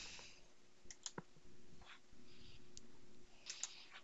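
A computer mouse gives a few faint, sharp clicks spaced irregularly over a quiet background hum, with no talking.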